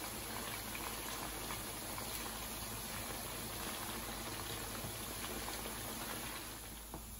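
Restaurant-style chicken 65 fries in hot oil with a faint, continuous bubbling sizzle that holds steady throughout and has no talking.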